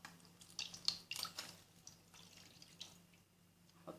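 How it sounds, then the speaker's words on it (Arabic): Warm water is poured onto flour for a homemade dough, giving quiet splashes and drips in short bursts with small pauses, close by and faint. "وننزل عليها بالمية الدافية."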